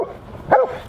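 Guard dog barking at a fence line outdoors, a single sharp bark fairly close by, following a softer whine just before.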